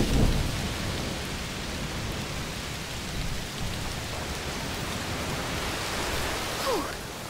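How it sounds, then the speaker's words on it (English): Heavy rain pours steadily in a thunderstorm in the video game A Plague Tale: Requiem, a dense continuous hiss with a low rumble of thunder at the start, loud and close throughout. "Oh, it's raining a lot."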